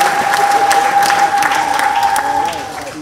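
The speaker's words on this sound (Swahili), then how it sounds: "Hebu tumpigie Mungu makofi mengi ya shangwe." Congregation applauding during a Lutheran church service, a dense steady wash of clapping with a sustained tone running underneath, fading slightly toward the end.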